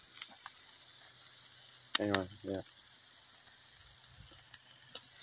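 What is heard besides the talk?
New York strip steaks sizzling on a grill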